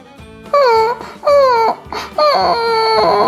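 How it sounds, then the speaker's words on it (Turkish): A child's toy-like cartoon voice sobs and wails in several rising, falling bursts, loud and close, with brief pauses between cries, in a children's toy play scene. "Evet, biri ağlıyor"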